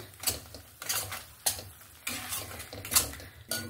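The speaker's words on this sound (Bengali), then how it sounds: "মশলাটাকে ভালো করে কষিয়ে নেব 5 মিনিট ধরে" Spice paste with chilli powder and Kashmiri chilli powder being sautéed in a pan for mustard hilsa, with repeated scraping and clanking strokes of a utensil against the pan over a low background sizzle, no voices.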